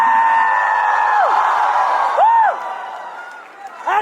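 Fans at a Thug Life film fan meet with Kamal Haasan whoop and cheer loudly, with rising and falling whoops and whistles over a crowd roar that fades, then swells again.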